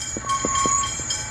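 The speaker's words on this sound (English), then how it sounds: "As the first train arrives, this will be the Sprinter, the Doodlebug, the DMU." A two-carriage Sprinter DMU diesel train arriving on the Baxter line, its steady engine drone and rail tones close by, with a few rhythmic clicks of wheels passing over rail joints.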